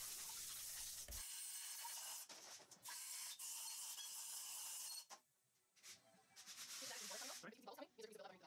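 Loud, steady blasts of compressed air blowing water off a cylinder head in a machine shop hiss for several seconds, break off briefly, then return in shorter bursts with a sputtering, wet edge.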